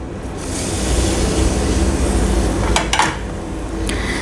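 Ground coconut paste scraped from a utensil into a pot of simmering horse gram lentil curry, with a couple of sharp metallic clinks near the end over a loud, steady rushing stove or fan noise.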